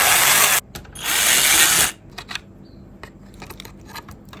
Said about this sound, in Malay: seterusnya kawan-kawan buka 2 skru meter.